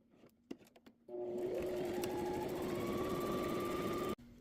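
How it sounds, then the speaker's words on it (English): A sewing machine top stitching across the edge of a fabric card holder runs in one steady, close burst of about three seconds after a few light handling clicks, then stops abruptly. "so now we're just going to top stitch across the top"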